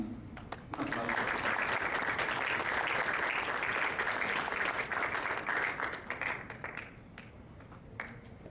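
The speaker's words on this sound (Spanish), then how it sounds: "Un aplauso." Audience at the Gran Museo del Mundo Maya applauding a guest speaker at a Maya culture festival, sustained even clapping that swells, holds and tapers off with a few late claps.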